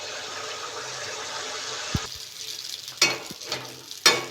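Poya pitha, a Bangladeshi batter cake, frying in hot oil in a pan, a steady close sizzle that thins out midway, broken by a few sharp bumps and scrapes as pieces are turned and lifted.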